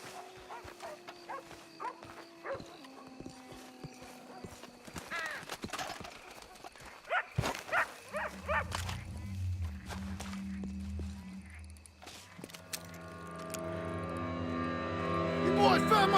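Dogs bark in bursts at a ranch building in Red Dead Redemption 2, mixed with clopping horse hooves, footsteps and a whinny; game voices talk over it.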